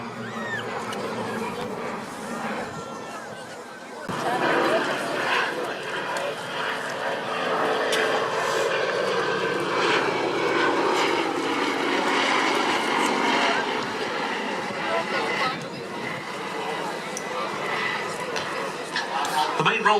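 Engine roar of a Tucano turboprop trainer making a display pass at the East Fortune air show swells to a loud, sustained drone, with crowd chatter and a commentator's voice mixed through it.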